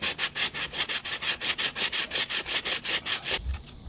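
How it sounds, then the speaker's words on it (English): Hand sanding a fiber patch on a boat hull, a steady back-and-forth rasp in about eighteen even strokes, close and loud, stopping abruptly just before the end with a low thump. "let's see if we can't get this sanded down."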